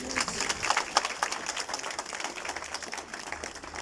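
Crowd applause with scattered clapping at a Congolese embassy gathering in South Africa, honoring the president: a steady wash of hand claps, fairly close and dense, with no talk over it.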